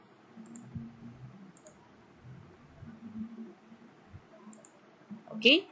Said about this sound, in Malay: Kita tekan butang simpan